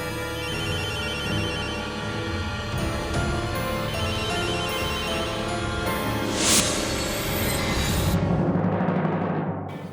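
A telephone rings on unanswered over a thick bed of dramatic music, the repeating ring tone steady throughout, with no voices.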